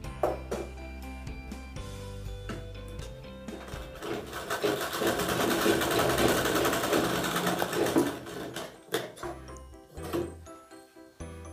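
A sewing machine stitches along the edge of a lace blouse with frills, its motor whirring in steady runs that swell in the middle and break into short bursts and pauses near the end, close and clear.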